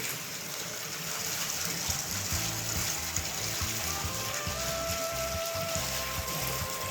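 Hot spring water near Manali gushes and splashes continuously nearby, a full rushing flow with no voices over it.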